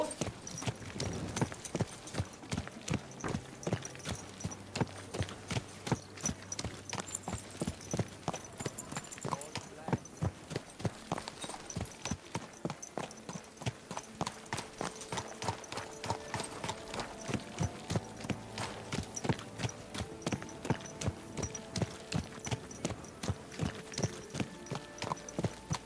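Horse hooves clip-clop at a steady, rapid walking rhythm in Kingdom Come Deliverance 2, close and continuous for the whole stretch, with occasional voices talking over them.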